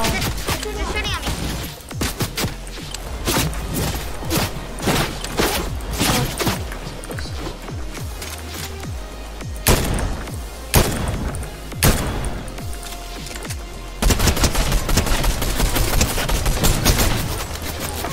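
Rapid Fortnite gunfire, dense bursts of shots and automatic fire from several players at once, loud and nearly continuous throughout with occasional heavy thuds, no clear talk over it.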